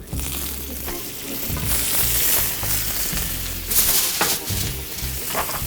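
Canola oil and butter sizzle steadily in a hot pan before a steak is seared, a loud, close, continuous frying hiss with brief bursts of crackle and no talking.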